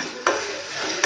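Onion and tomato sautéing in a pan with a spoon of salt, a continuous near sizzle with a bright stirring scrape at the start and another at the end.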